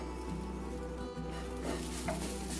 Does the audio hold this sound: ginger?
yes